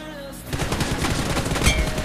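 Automatic rifle fire in a competitive 1v1 shooting video game match with an M4, rapid dense bursts of shots starting after a brief quiet moment and continuing steadily, loud and close.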